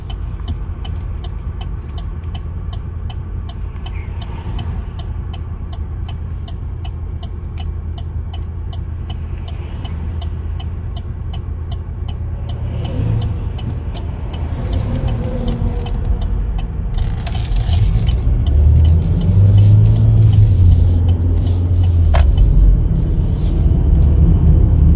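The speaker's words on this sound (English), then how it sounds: "Accelerates really nice, feels super smooth." A 2020 Chevrolet Equinox LT heard from inside the cabin while driving, with a steady low engine and road rumble that builds as the car accelerates and ends in a louder surge, plus light rattles and clicks.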